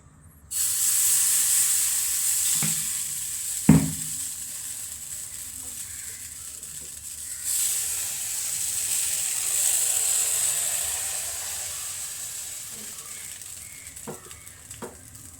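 Appam batter sizzling as it cooks in the pan, a steady close hiss carrying on throughout with a couple of brief clinks near the start.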